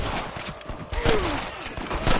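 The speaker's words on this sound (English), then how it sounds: "I can hear more gunshots." Gunfire crackles through a Red Dead Redemption shootout, with rapid overlapping shots and distant pops in a dense, noisy scene and a brief falling whine midway.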